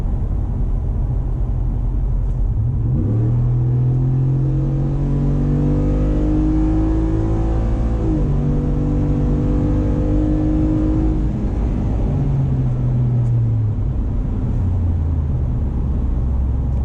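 A 2021+ Ford F-150 Tremor 5.0 V8 pickup with a Flowmaster FlowFX muffler revs up in rising waves, its deep exhaust roar climbing in pitch through several gear pulls, loud and close throughout.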